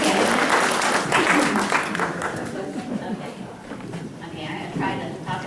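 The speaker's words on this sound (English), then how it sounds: "Everyone give applause to Randall." An audience applauds together, a dense burst of clapping that is loudest at the start and tapers off over a few seconds.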